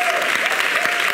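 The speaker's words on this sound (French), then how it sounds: "On peut l'applaudir encore une fois." A TV studio audience applauding, a short, loud, dense wash of clapping with a faint steady tone running underneath.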